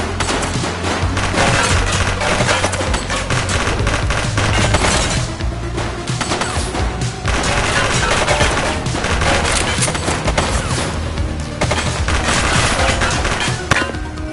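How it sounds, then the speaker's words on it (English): Sustained gunfire from the crime game The Precinct, a loud, dense barrage of rapid shots and bursts running continuously for the whole stretch with crackling impacts layered throughout. "She's shooting!"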